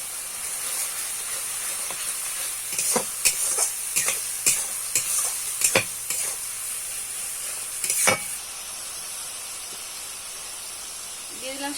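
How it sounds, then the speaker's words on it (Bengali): Spices and chillies sautéing in hot oil for a Bengali katla fish kalia, a steady sizzling hiss broken by a run of sharp scraping stirs in the middle, close and fairly loud with no talking. "সামান্য লঙ্কার গুঁড়ো এবার ভালো করে কষিয়ে নিন"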